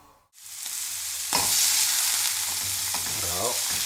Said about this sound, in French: on a fait chauffer un petit peu de beurre et on va faire revenir nos paupiettes dans la poêle